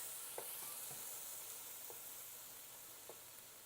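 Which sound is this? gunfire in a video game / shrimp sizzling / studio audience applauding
shrimp sizzling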